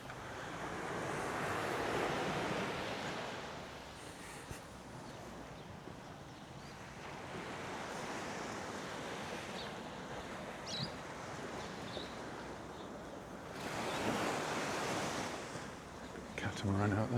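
Surf breaking on the beach at Puerto Portals, Mallorca, a steady wash of waves that swells louder at the start and again near the end, with light wind noise over the shoreline.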